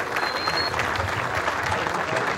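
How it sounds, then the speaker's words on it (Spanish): An audience at a rally awards ceremony applauds drivers from Paraguay, a dense, continuous burst of clapping from a sizable crowd, even and sustained, with a faint whistle early on. "Vamos a saludar y a dar un fuerte aplauso"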